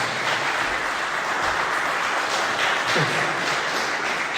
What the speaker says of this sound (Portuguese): Você pode dar um aplauso ao nosso Deus aí,